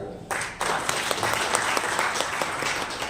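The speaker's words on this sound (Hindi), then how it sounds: "उनके लिए एक जोरदार ताली बजाइए" Enthusiastic audience applause at a national youth conference on inequality and discrimination, loud continuous clapping from a large crowd starting abruptly and holding steady throughout.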